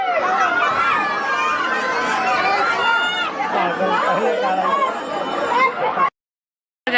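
Dense crowd chatter fills a busy zoo walkway, many overlapping voices and some children's shouts running steadily for about six seconds before a sudden brief cutoff and return.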